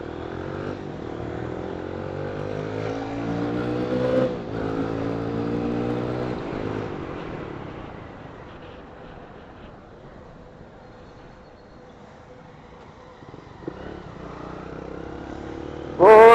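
A motorcycle rides along a road, its engine droning steadily and rising in pitch before fading to a quieter hum, then swelling loud again right at the end.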